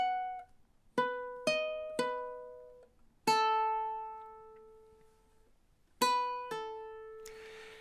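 Solo guitar playing two measures of a song's melody: single plucked notes and short chords ring out clearly and decay slowly, spaced unevenly over several seconds, quiet and close with no talk.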